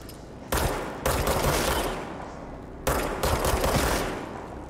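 The player's weapon firing in the video game Control, two sustained loud bursts of rapid shots close up, each trailing into a rumbling echo, with no speech.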